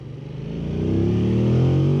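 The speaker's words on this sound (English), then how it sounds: "lovely pickup from that CP2 engine, though." 2025 Yamaha MT-07 Y-AMT motorcycle with its CP2 parallel-twin engine accelerating, a loud, close, throbbing exhaust note climbing steadily in pitch as revs build.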